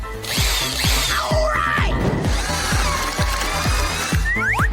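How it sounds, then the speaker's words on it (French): A power drill whirs steadily and loudly for several seconds, with a rhythmic grinding chatter as the bit works through material. "Je vais le faire avec une perceuse."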